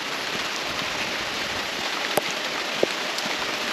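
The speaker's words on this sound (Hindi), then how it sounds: "यहाँ बारिश हो रही है" Steady rain patters across the whole stretch in the hills around Manebhanjan, North Bengal, a dense even hiss with a couple of sharper drip clicks standing out near the end.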